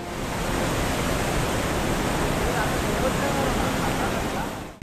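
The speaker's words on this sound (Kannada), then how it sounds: "ರಾಮನಗರ ಜಿಲ್ಲಾಧಿಕಾರಿ ಕಚೇರಿ ಹಿಂಭಾಗ ಬಕ್ಷಿಕೆರೆ ಕೋಡಿಬಿದ್ದಿದ್ದು ಭಾರೀ ಪ್ರಮಾಣದಲ್ಲಿ ನೀರು ಹರಿಯಿತು" Heavy floodwater rushes from the overflowing Bakshi lake behind the district office in Ramanagara, Karnataka, after heavy rain: a loud, steady, broadband roar that runs unbroken throughout, with no talk.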